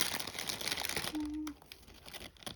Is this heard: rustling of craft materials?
yes